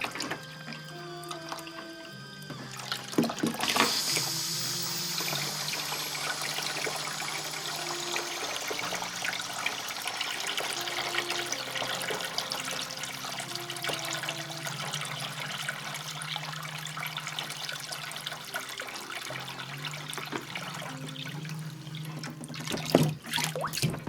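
Developer solution drains out of a Durst RCP50 film processor as a steady, continuous watery rush and trickle, close and fairly loud, with brief clunks near the start and end and no talk.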